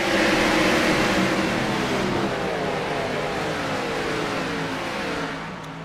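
Loud, continuous roar of race cars accelerating together on a restart at Daytona, a dense wall of revving motor noise that fades slightly at the end.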